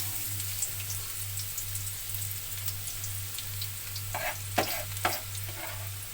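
Garlic fries in hot oil in a pan, giving a continuous soft sizzle over a low steady hum, with a few sharp crackles and pops near the end.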